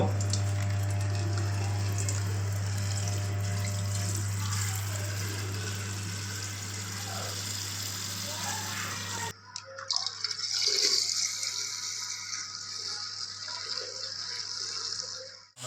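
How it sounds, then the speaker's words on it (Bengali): Rice being rinsed for a rice kheer under running water: a steady, close tap stream for several seconds, then splashing and swishing as the rice is washed. "ধুয়ে নেব চালটা ঢেলে দিলাম"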